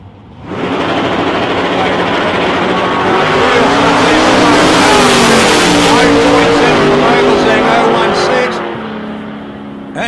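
Two Camaro drag race cars roar down the strip at an ANDRA Grand Final, a loud engine howl that builds quickly, holds for several seconds and then fades, with a commentator talking over it.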